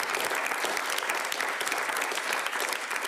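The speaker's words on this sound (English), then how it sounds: "Give yourselves a round of applause." A room full of people claps loudly and steadily for a Glasgow urban dance collective, a dense sustained wash of applause with no talking over it.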